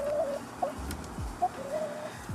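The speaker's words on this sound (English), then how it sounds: "making her happy chicken noises" A pet chicken at bedtime gives several soft, contented clucks and murmurs in short separate bursts, close and fairly quiet, against a low background hum.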